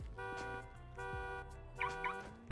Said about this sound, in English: Now the alarm's going off.